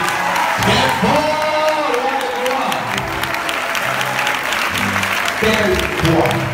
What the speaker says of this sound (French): Acclamons Jésus-Christ. Très fort